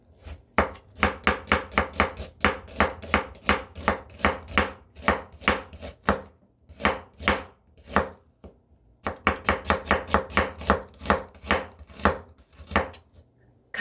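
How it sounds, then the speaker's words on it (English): Knife slicing onion on a cutting board for a vegetable stir-fried noodle dish, heard as steady rapid chops in bursts with a brief pause midway, close and alone. "Now let's slice the onion."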